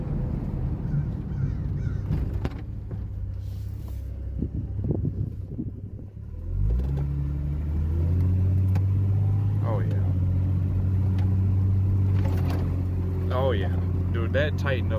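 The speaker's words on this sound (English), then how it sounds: "But let's go for a test drive with this brand new track bar in here." A 1989 Jeep Comanche Eliminator with a newly fitted track bar sets off on a test drive. The engine starts midway and settles into a steady low drone, and a person talks over it throughout.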